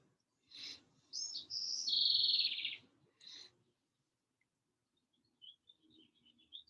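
Birds call outdoors in a few clear chirps and a longer whistled, descending song phrase, followed by fainter distant twittering against a quiet background.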